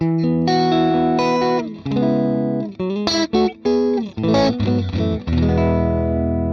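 A loud, distorted electric guitar plays chords and short riffs through a Valeton GP-200 amp modeler, with abrupt stops and ringing sustained notes.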